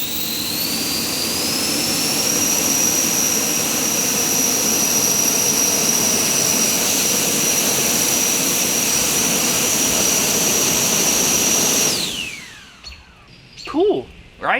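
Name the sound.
3D printed EDF drone ducted fan thrust in flight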